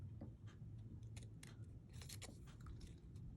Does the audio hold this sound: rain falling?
no